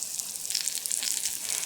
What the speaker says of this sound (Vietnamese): Mình chiên như vậy thì bánh sẽ rất giòn nha các bạn.